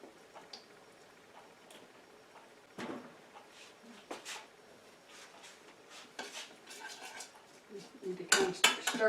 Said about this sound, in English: Need to kind of stir that up and see how much more I need to add.